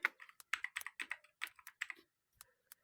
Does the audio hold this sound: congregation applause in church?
no